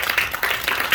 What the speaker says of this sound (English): Round of applause for Rodrigo.